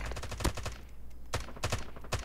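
The gold Holger 26 light machine gun fires in short controlled bursts in Call of Duty Mobile, crisp sharp shots in two quick clusters separated by a brief pause.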